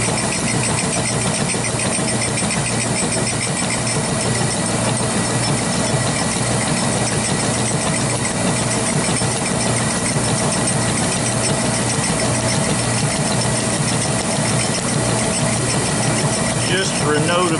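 A 1940s grinder fixture regrinding a 1-inch 82-degree center reamer on a slow cross traverse, a loud, steady machine drone and grinding whine running throughout without pause.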